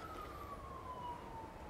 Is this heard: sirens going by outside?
yes